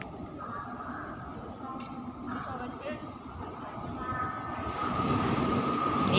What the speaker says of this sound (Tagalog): Parating na ang ating train.